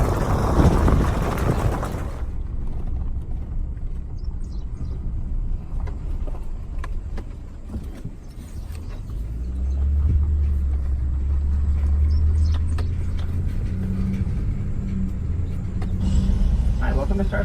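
A truck towing a trailer on a farm trip to town gives a continuous low road rumble that swells midway, with voices talking over it after a loud opening burst.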